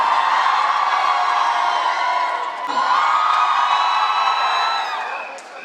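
Crowd at a Punjabi film team's public event in Punjab, cheering, whooping and shouting loudly for the whole stretch, with only a short dip midway and a few voices rising above the roar.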